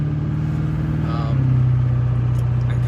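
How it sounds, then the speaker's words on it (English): A Chevrolet Duramax LB7 diesel truck with blow-by in the engine drives along, its low, steady engine drone heard from inside the cab, rising slightly partway through. "I'm driving my LB7 right now."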